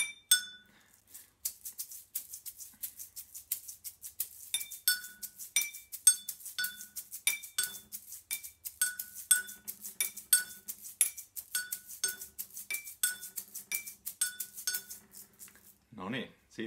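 Filled drinking glasses tapped as a rhythm instrument, bright ringing clinks in a steady repeating pattern of varied pitches, close and clear for over fifteen seconds.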